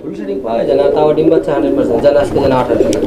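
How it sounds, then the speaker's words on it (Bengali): A pigeon offered for sale at a pigeon market coos in soft, repeated throaty rolls close by, partly under continuous talking nearby. "আমি একটু নামাই দেই কবুতরটা, দেখেন আপনারা"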